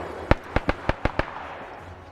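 Mortar rounds burst in a WW2 video game: six sharp explosions in quick succession, each a crisp crack fading into a short rumble, distant-to-mid range with no talking.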